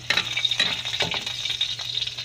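Onions sizzling in hot oil in a pan for a bitter melon dish, with a continuous crackling fry and a few sharp scraping stirs against the pan.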